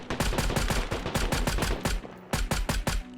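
Rapid automatic tracer gunfire in the video game Squad, loud close bursts of evenly spaced shots with a brief pause before another burst.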